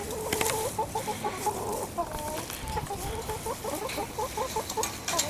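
Hens at a hen house cluck in quick, rhythmic bursts, several birds overlapping at moderate distance, with a soft background hiss and no talking.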